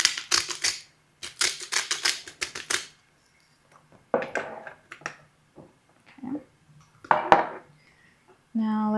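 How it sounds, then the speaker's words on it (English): A pepper-style grinder cracks fresh salt over raw ribs in a home kitchen, giving several short bursts of crisp, gritty crunching close by, separated by pauses and small handling clatter. "Freshly cracked salt."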